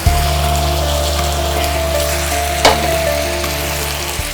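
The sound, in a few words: gravy poured into pan of frying chicken, sizzling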